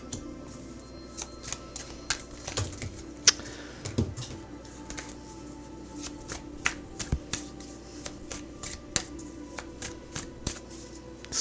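Tarot cards are shuffled and pulled by hand in a rapid series of crisp, close riffles and flicks with short pauses between bursts, and there is no speech.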